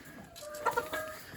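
Chickens cluck and call on a farm, several short bursts rising over a soft outdoor background, a bird close by with others around, no talking.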